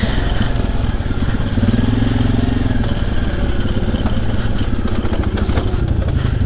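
Suzuki KingQuad ATV engine droning steadily and loud while riding a trail back to camp, a continuous close rumble with rattling clatter from the machine, no talk.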